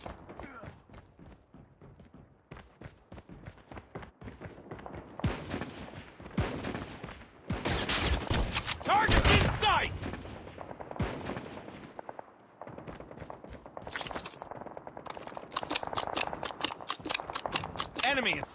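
Video game combat with a sniper firing: sharp gunshot cracks and heavy bursts of fire erupt repeatedly, with loud explosive blasts in the middle and shouted voice lines mixed in over the din.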